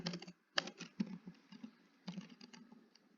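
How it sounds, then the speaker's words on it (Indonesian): Typing on a computer keyboard: quick, close clicks of individual keys in short irregular bursts, soft and alone with no talking. "Kita ketik saja select"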